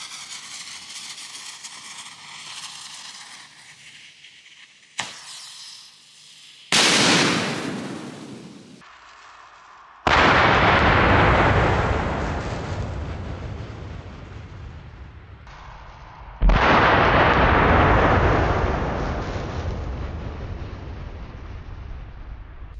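A mortar is fired and explodes outdoors: a couple of sharp bursts, then two heavy booms several seconds apart, each one's roar slowly fading away.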